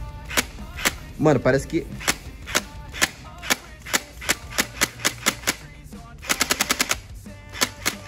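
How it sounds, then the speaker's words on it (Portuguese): Automatic gel blaster fired at a wall: a rapid string of sharp snapping shots, some spaced and some in quick bursts, loud and close, with someone speaking briefly early on. "É a arma mais forte que tem de gel, essa automática. Vou fazer um teste na parede"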